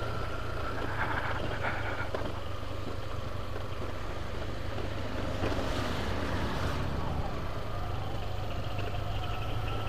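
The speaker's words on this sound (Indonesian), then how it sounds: "Ini anginnya agak besar, bunyi suara angin" Strong wind buffeting a rider on a motorbike along rural roads on the outskirts of Magelang, a steady loud roar of wind noise with engine hum underneath throughout.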